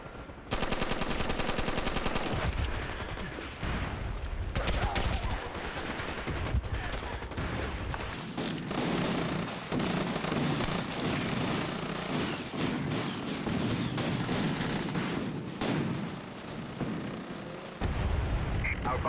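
Heavy gunfire and artillery barrages from the online shooter MAG fill the scene, dense and continuous with booming impacts and rattling shots layered throughout, loud and close the whole time.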